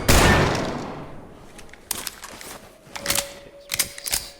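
Scattered gunshots in Yuri's simulation: one heavy blast at the start fading out, then a string of sharp, separate shots in small clusters, fairly close and with no talking.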